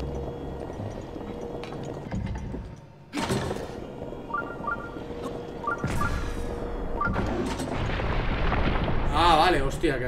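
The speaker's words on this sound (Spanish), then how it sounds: "Qué guay eso del cañón." Cannon blasts from Zelda: Breath of the Wild gameplay, with several loud booming bursts spread across the clip over busy game sound and music.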